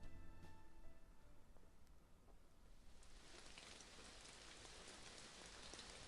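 Steady rain from the Clannad video game, a dense hiss that swells louder and brighter partway through and then holds constant and close, with no voices.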